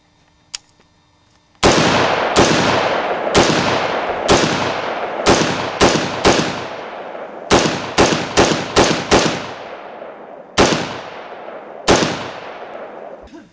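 Single shots from an M4 rifle during a live-fire test of a weapon-mounted JetBeam flashlight, about fifteen loud, sharp reports echoing outdoors, fired at an irregular pace with a quick cluster in the middle.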